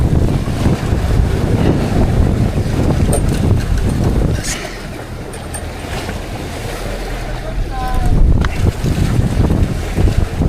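Sea waves slapping against a boat on open water, with heavy wind roaring across the microphone, dipping briefly in the middle before surging back, and a faint voice in the background.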